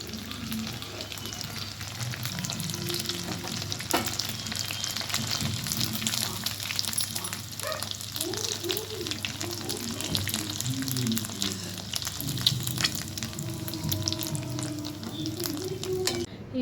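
Egg 65 pieces fry in hot oil, a steady dense sizzle and bubbling running throughout at even loudness, with a few faint clinks and stirring touches and no talk.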